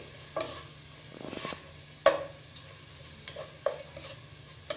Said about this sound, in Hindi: हम इसे 2 से 3 मिनट तक भून लेंगे।